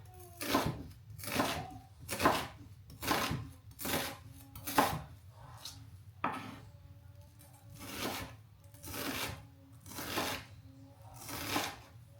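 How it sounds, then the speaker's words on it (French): A knife chops an onion finely for healthy tabbouleh, about a dozen evenly spaced, crisp cuts against a board in a steady rhythm, close and clear with no talking. "Et c'est parti pour couper le plus finement possible."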